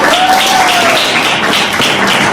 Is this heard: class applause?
yes